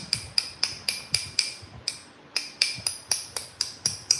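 Stone edge being bevelled during flintknapping, a rapid run of sharp, bright clicking strikes at a brisk even rhythm, close and crisp, broken by one short pause, with no talking.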